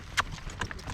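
Horse hooves clip-clopping at a trot on soft ground, a few distinct close hoof strikes in quick rhythm.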